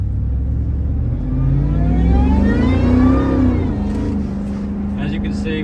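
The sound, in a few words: 2004 Ford SVT Lightning pickup accelerating on highway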